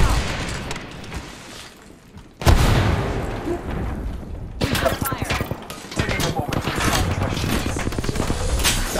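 A grenade blast and gunfire in Apex Legends, a sudden heavy boom followed by rapid bursts of crackling shots and explosions, loud and close, with players talking over the fight.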